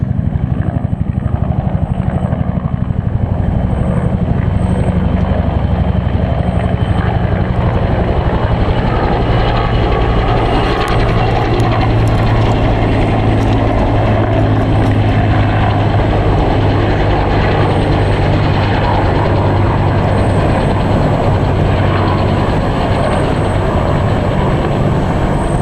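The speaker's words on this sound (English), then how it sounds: "I think that was a Bell Jet Ranger." Bell Jet Ranger helicopter passing over a forested hiking trail at the base of a cliff, a steady broad rotor and turbine rumble holding throughout with no talking.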